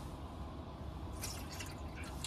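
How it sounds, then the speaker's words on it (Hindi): Water poured from glasses into a cooking pot for soup during car camping makes a soft, continuous trickle with drips, and it grows more splashy toward the end. "सूप बनाने के लिए ये दो ग्लास पानी ले लिया मैंने और इसके अंदर डाल देता हूँ"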